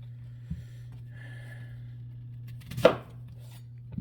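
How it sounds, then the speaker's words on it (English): A knife cutting an onion on a board gives a few isolated, sharp knocks spaced seconds apart, fairly close, over a steady low electrical hum in an otherwise quiet kitchen. "So we're going to cut this onion."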